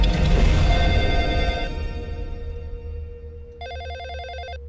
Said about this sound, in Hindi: फोन उठाओ ना।